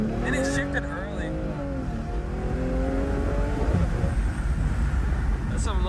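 A BMW M340i launches hard with the revs held and then released, the engine roaring as it climbs through an early upshift, with tire noise and a loud, continuous run of engine sound over wind.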